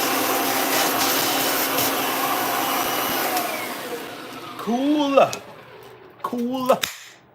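A Kirby vacuum cleaner runs with a loud steady roar that fades out, followed by brief sharp clicks and two warbling whining bursts as the motor winds up and down, with little voice underneath.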